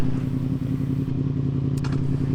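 A Yamaha MT10 hyper naked motorcycle engine idling, a steady deep pulsing drone that stays loud and even throughout, with a brief higher click near the end and no talking.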